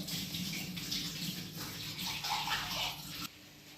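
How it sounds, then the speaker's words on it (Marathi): Water is poured into a ground urad dal batter in a mixer jar, a steady splashing trickle that runs for about three seconds before cutting off, with no one speaking. "मी एवढंच पाणी टाकते याच्यामध्ये"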